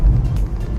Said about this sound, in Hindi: गाड़ी चल चुकी है